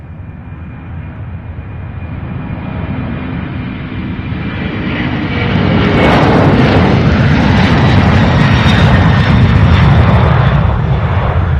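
A jet airplane at Louisville International Airport's UPS Worldport roars loudly, its engine noise swelling and growing harsher as it nears and powers up, a continuous broad rumble without talk.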